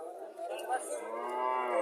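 A cow or Sahiwal calf at the Mirshani cattle market in Comilla gives one long, drawn-out moo close by, rising and falling, with no talk over it.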